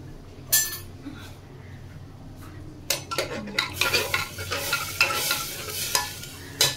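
Rice and lentils are stirred in a pot with chili and turmeric after cumin seeds are tempered. The start is quiet with a few clinks, then from about three seconds come busy scraping, clinking utensil strokes over a light sizzle.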